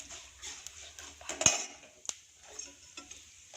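Urad dal and cashew pieces stirred as they fry in a pan, light metallic scrapes and clinks of a spoon against the pan over a faint sizzle, with a couple of sharper taps.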